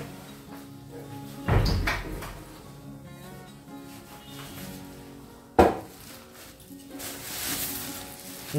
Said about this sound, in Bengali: তাই জন্যই চলে এসছি আদা রসুন কাটতে